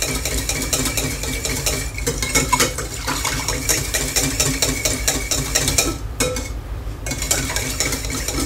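An electric mixer whirs steadily as it blends honey and propolis soap mixture, a continuous close buzzing with clattering against the bowl and a brief pause near the end, with no talking.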